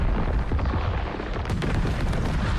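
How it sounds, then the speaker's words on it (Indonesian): An aircraft explodes in the science-fiction war film The Tomorrow War, a dense, continuous roaring blast with rumbling low end and a sharper burst about halfway through, loud and sustained with no speech. "Duar, pesawat meledak, membinasakan semua yang ada di dalamnya."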